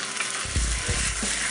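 Noodles sizzling in a hot pan as another ingredient is added and stirred round, a dense continuous hiss with low scraping stirs underneath, close and fairly loud, no talking.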